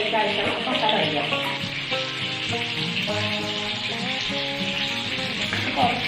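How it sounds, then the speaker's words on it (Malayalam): Fish masala frying in hot oil for a banana-leaf wrapped dish, giving a dense, continuous close-up sizzle with crackling pops and no talking. "ഒരു ഭാഗം ഫ്രൈ ചെയ്ത് വന്നിട്ടുണ്ട്."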